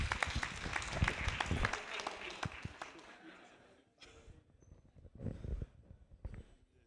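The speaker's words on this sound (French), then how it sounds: "Sous vos applaudissements," Audience applause for a startup pitch session, a dense burst of clapping that fades after a few seconds, followed by scattered quieter claps and a brief renewed swell near the end.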